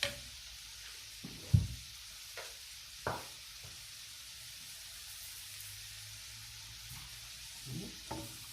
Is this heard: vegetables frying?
yes